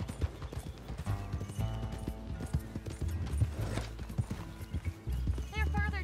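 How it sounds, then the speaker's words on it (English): Horse hooves clip-clop steadily in Red Dead Redemption 2, with a horse whinnying near the end, all under game music and character dialogue. "Okay, get on your horse. Follow me!"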